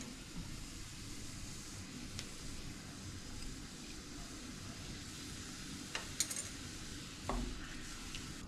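Butter chicken gravy with cashew paste bubbles and sizzles in a pan, a steady low simmering hiss broken by a few faint clinks of a utensil.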